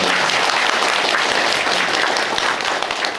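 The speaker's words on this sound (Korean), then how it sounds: "큰 격려의 박수를 드립니다" A hall crowd gives loud, dense applause, sustained clapping for local civil servants and a newly arrived committee chairman at a county government gathering.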